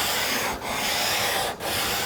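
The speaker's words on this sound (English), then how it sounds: "I've got a nice long sanding block." Steady abrasive rasping of a long sanding block dragged over a workbench's wood, two long continuous strokes separated by brief pauses, close and loud.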